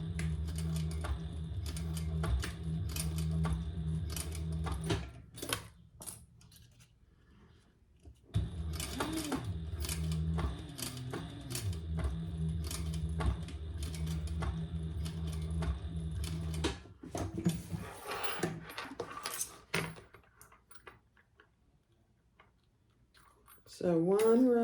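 A sewing machine runs in long steady bursts, stitching two rows along a folded fabric edge, with pauses between runs and brief handling sounds.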